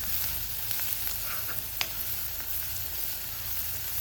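Small onions (shallots) sauté in a pan for a prawn and shallot roast, giving a continuous close sizzle with a few light spatula scrapes and clicks.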